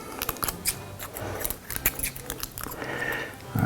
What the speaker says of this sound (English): Remember, be real careful when you're using these scissors.